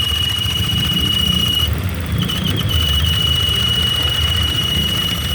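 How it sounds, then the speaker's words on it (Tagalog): A Honda Click scooter with a worn water pump oil seal, engine hot, gives a steady high-pitched whistle over a low idling engine rumble. The sound is close and continuous, with a brief break partway through. "Water pump yan, oil seal."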